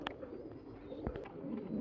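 Paired pigeons cooing softly nearby, a low murmuring coo with a couple of faint clicks, quiet and without talking.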